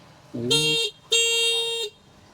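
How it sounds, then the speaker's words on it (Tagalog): Two short electronic horn beeps from a four-wheel e-bike sound close by, the first sliding slightly in pitch and the second held a bit longer. "Ang busina, ma'am. Busina pa ito."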